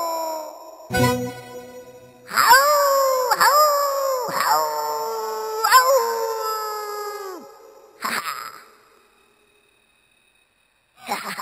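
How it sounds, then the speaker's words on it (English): A cartoon monster howls at the moon at night in a series of long, wavering, loud howls with repeated rising swoops, then a brief cry and silence before a final short burst. "Some monsters howl at the moon at night."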